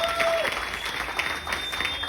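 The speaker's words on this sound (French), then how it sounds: "Est-ce qu'on peut applaudir pour les leaders?" An audience at a French-language business presentation on an affiliate opportunity claps in a steady, even patter for about two seconds, with a faint voice underneath.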